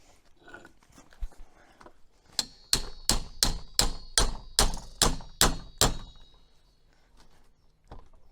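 About ten sharp metallic hammer taps in a steady rhythm ring out close by, each with a brief ringing tail, then the tapping stops, while fitting UPVC doors.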